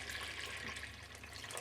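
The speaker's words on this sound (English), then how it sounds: "in this we are going to go ahead and add 4 cups of water" Water streaming steadily from a tap or jug into a bowl of powdered sugar for gulab jamun syrup, a soft continuous splashing hiss, faint and close, with no talking.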